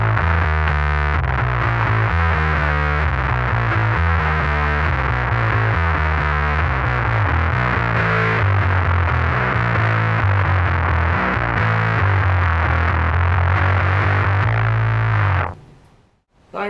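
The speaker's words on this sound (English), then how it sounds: "love big, fuzzy, distorted, fat, bassy tones like that. Throwing the big muff on." An Epiphone Thunderbird Classic PRO bass guitar through a Big Muff fuzz pedal plays a loud, sustained, growling riff in thick distortion that continues steadily before cutting off abruptly near the end.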